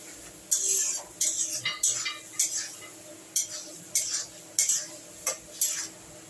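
A spoon scrapes and knocks against a pan while spice paste with ginger paste is stirred for vegetable mung dal, giving a series of sharp, close metallic clinks in irregular rhythm over a quiet background.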